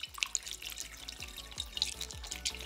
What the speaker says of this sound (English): It's a coolant pouring party, boo doo doo doo doo, with Ethan and his mini